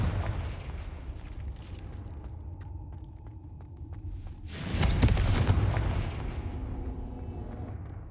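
A Confringo fire spell explodes in the video game Hogwarts Legacy, a single loud, booming blast that rises suddenly out of steady background game noise and fades over a couple of seconds.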